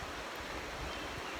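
The Housatonic River flows in a steady broadband rush of water, close and continuous. Wind noise mixes into it, and no voices are heard.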